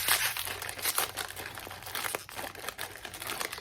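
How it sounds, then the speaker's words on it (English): A Disney minifigure pack is unwrapped by hand, its plastic foil crinkling and crackling close and continuously in uneven bursts. "So let's go ahead and do a live unboxing here, or unwrapping,"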